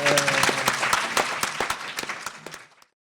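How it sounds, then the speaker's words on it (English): Round of applause from an audience at a multi-agency educational session, dense steady clapping that fades out near the end. "Another round of applause, please, for Matthew."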